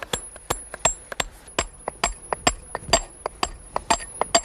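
A stonemason's hammer strikes a stone block again and again, sharp ringing clinks at an irregular quick rhythm, close and clear against a quiet background as the block is dressed into a building stone.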